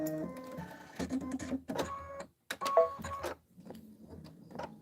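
A home embroidery machine stitches a quilt block, sounding in bursts of rapid mechanical whirring and clicking with short pauses between runs, fairly quiet and close.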